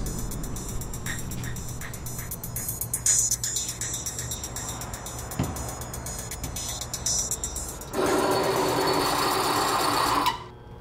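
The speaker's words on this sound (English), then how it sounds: "Bring me my Force One torque tester." A Force One torque tester, a motorized oil-additive test machine, whirs with a steady mechanical hum, then a louder, harsher grinding load runs for a few seconds near the end before cutting off.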